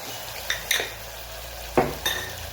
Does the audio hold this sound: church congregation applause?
no